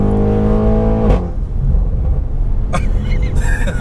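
An 800bhp methanol-injected Audi RS6 accelerating hard, a loud close engine roar climbing in pitch before a gear change, then continuing to rumble heavily from inside the car.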